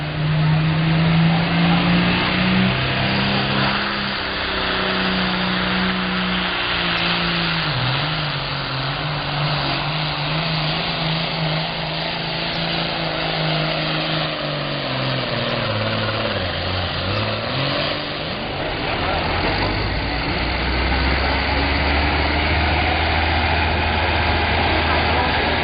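John Deere 4010 pulling tractor at a county fair tractor pull, engine idling and rumbling steadily with shifting pitch and a dip near the end, loud and continuous.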